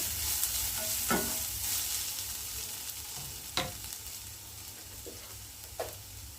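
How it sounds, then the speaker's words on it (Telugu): Onions fry with turmeric in a pan under a soft, constant sizzle, while a few sharp spoon scrapes and stirs break through now and then. "పసుపు వేసుకొని ఒకసారి కలుపుకొని"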